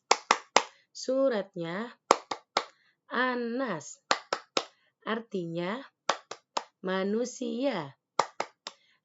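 Hands clap sharply in quick rhythmic patterns between lines of a chanted recitation for memorising Surah An-Nas, a voice speaking and singing between the claps.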